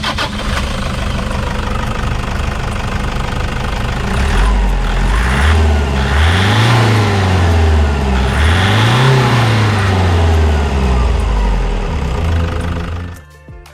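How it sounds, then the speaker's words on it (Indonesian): A Toyota Hiace minibus's 2KD-FTV 2500cc turbo diesel engine starts and runs loudly up close, settling into a steady clattering idle with a couple of rising and falling revs before cutting off. "Kita pengen denger dulu dong raungan mesin dari dieselnya Toyota"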